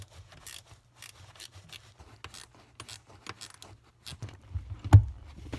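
Metal floor-mat brackets for a Porsche 944 being twisted and locked into place, giving faint, scattered clicks and light metallic rattles over a low background hum.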